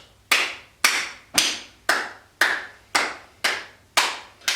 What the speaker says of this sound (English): coming down to the wrist, back of the hand, and clap.